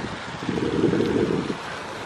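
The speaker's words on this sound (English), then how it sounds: "When that wind comes." Wind gusts through a cold forest, a broad rushing swell rising in the middle and easing off, close to the microphone with no talking.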